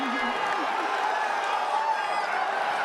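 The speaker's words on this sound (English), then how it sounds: "The crowd is so fucking happy." A dense crowd at the EVO 2022 fighting-game event roars and cheers steadily, a sustained wash of many voices; someone talks briefly over it near the start.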